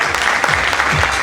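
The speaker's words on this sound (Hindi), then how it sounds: "तो एक बार जोरदार तालियां" An audience at a sales training program claps in a dense, continuous burst that stays loud and steady for the whole moment, with no speech over it.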